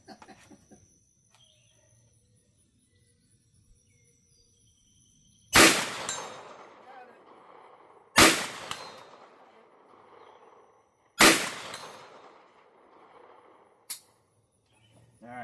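A Bear Creek Arsenal BC-9 bufferless AR9 9mm pistol fires outdoors: three loud, sharp shots spaced a few seconds apart, each trailing off in an echo, then a quicker fourth shot.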